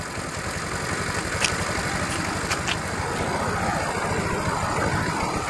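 A GY6 150cc scooter engine runs steadily at a close, even idle, giving a constant low mechanical drone with a faint rhythmic pulse and no voices.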